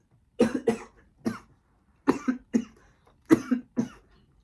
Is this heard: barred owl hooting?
no